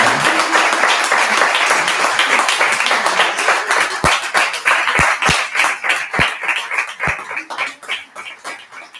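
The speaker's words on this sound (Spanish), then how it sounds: "voy a pedir un aplauso para Alba y José." An audience at a book presentation breaks into dense applause that gradually thins into scattered individual claps before fading, close and lively, with no speech over it.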